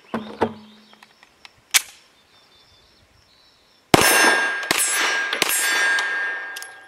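Shots from a TP9 SFx pistol loaded with light lead-free Gecko ammunition strike steel targets, with sharp ringing clangs and a scattered series of cracks, then a louder dense burst of rapid impacts.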